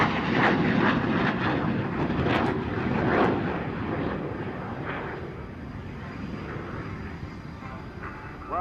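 Aircraft flying in close formation at an aviation display, a loud continuous engine roar that swells slightly and then holds steady, heard from the ground.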